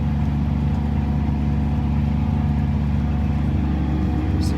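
A tractor seeding canola drones steadily around the perimeter of a muddy field, its engine a constant low rumble heard from inside the cab with no change in pace.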